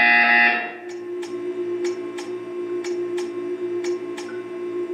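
An electronic buzzer in the video game Portal 2 pulses in a regular series of short, evenly spaced beeps over a steady hum, after a brief louder tone at the start.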